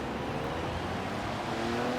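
A 1969 Ferrari Dino 246 GT driven fast in the Forza racing game, its engine droning loud and steady with a slight rise near the end.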